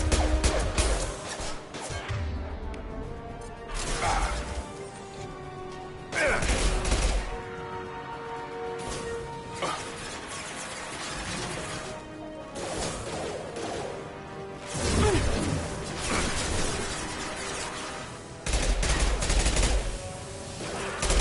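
Mass Effect 2 gunfight: heavy bursts of automatic gunfire and crashing impacts return every few seconds, loud and close, with quieter lulls of battle noise between them.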